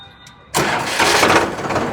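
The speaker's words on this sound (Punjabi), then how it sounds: "ਟਰੈਕਟਰ ਆਵਾਜ਼ ਮੜੀ ਇੱਕ ਵਾਰ ਸੁਣਾ ਦਈਏ" A Farmtrac 60 tractor engine cranks and catches after a brief quiet moment, then runs loud and rough at close range.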